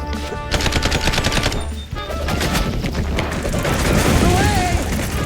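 In the game Mouse: P.I. For Hire, bombs and gunfire explode in a loud, dense barrage of booms and rapid shots lasting several seconds, with a voice talking over the chaos.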